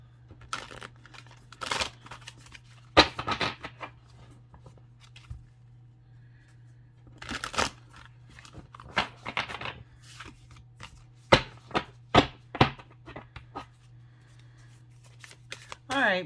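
A Kundalini Meditation Oracle card deck being shuffled by hand in repeated papery riffling bursts, some quick and clustered, separated by brief pauses, close and fairly quiet.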